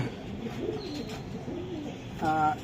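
Racing pigeons at a club loft cooing softly at close range amid low background murmur, ending with a brief brighter call.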